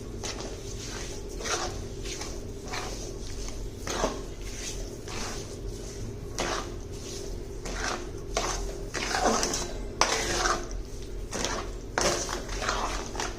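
Mesub ingredients are mixed in a pan, with repeated scraping and clinking strokes of a spoon against metal in an uneven rhythm, close and moderately loud with no talk.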